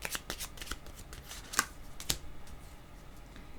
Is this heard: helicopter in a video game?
no